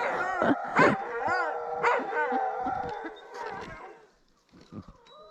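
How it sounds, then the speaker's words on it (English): A husky mix and an English shepherd howl in long, wavering wolf-like wails with some yips mixed in, loud and close, fading out near the end. "When your husky mix teaches your English shepherd how to howl like a wolf"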